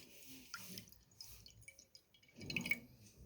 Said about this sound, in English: In this I'm adding some water.